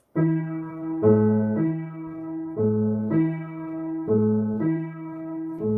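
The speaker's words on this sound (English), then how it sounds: "We're just hearing a repeated open fifth that leads into our recitative." A low piano open fifth is struck repeatedly in a slow, steady pattern, each chord ringing before the next, alternating between two nearby pitches.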